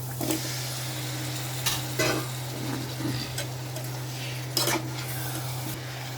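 Chicken meat fries in a pan for a Bengali chicken curry, a steady close sizzle broken by several sharp stirring scrapes and utensil clinks, with a low constant hum underneath.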